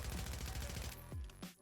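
SMG gunfire in Warzone 3, a rapid sustained burst of automatic shots that stops abruptly, followed by brief mechanical clicks.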